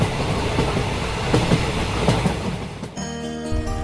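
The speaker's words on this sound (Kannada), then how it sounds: "ಆ ಟ್ರೈನ್ ಈಗಾಗಲೇ ಗುಹೆಯಿಂದ ಹೊರಗಡೆ ಬಂದಾಯಿತು." A train emerging from a cave tunnel near Bidar rumbles past at close range, its steady rolling roar shifting to a drone of tonal wheel and motor hum in the final second, with no voices present.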